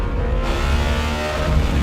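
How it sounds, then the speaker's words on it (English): A Bugatti's naturally aspirated 16-cylinder engine roars steadily and close, a dense, continuous rumble with a slight swell in pitch as it revs. "the emotion and power delivery and sound of a naturally aspirated 16-cylinder engine"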